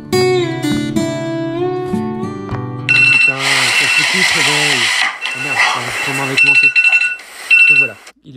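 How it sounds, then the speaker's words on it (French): Insupportable alarm clock ringing at 6:30 in the morning, a loud busy electronic ringtone with shifting melodic tones and harsh buzzing bursts, fairly close, without speech. "il est 6h30 et j'éteins mon réveil insupportable"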